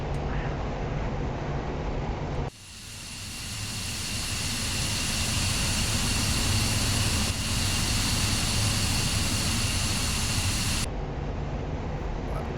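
F-15E jet engines idling and spooling steadily after landing in the DCS World flight simulator, a loud continuous broadband roar with a high whine, rising slightly after a sharp change and holding steady to the end.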